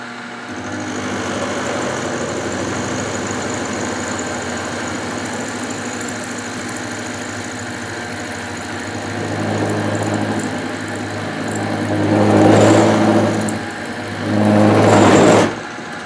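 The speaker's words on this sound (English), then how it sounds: "I'm going to mill on the Y axis and get an 1/8 slot in there" A milling machine cuts a 1/8 inch slot along the Y axis for a tool holder, with a steady mid-pitched motor whir throughout and louder cutting surges near the end.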